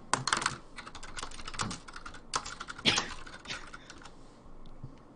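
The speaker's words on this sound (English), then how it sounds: "What was with this aggressive typing?" Fast, forceful typing on a computer keyboard, a dense run of sharp key clicks with harder strokes standing out, close and fairly quiet with no voices.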